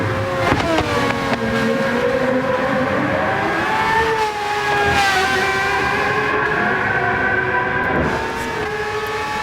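Loud race car engines in a racing video game roaring continuously, pitch sliding up and down as they rev and shift, with a sustained whine throughout and no talking.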